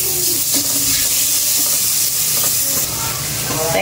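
Garlic hits hot oil in a heated pan and sizzles loudly and continuously, a close, bright crackling hiss that holds steady throughout.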